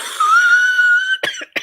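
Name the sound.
cough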